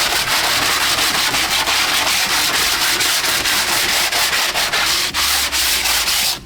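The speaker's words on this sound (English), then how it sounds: "here's my ball of tinfoil" Steady, continuous abrasive scrubbing of Yoder YS640S pellet grill grates with a ball of tinfoil, close and loud with a quick back-and-forth rhythm and no talk.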